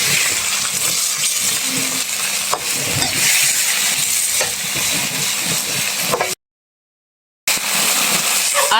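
Pork with soy sauce is stirred in a hot pan for apritada with taro, giving a loud, close sizzle broken by spoon scrapes and clinks, then a short stretch of silence before the sizzling resumes.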